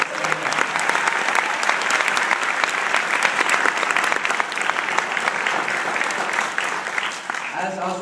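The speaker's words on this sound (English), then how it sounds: "If everyone can please give a round of applause to your parents and their family." A crowd at a 2013 high school graduation ceremony applauds the graduates' parents and families with steady, dense clapping that lasts the full eight seconds and fades slightly near the end.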